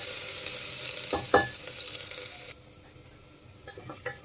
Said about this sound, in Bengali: এখন পেঁয়াজগুলো হালকা একটু ভেজে নেব